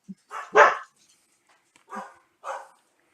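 A dog barks in short bursts, several separate barks spaced across a few seconds, fairly close with quiet gaps between them.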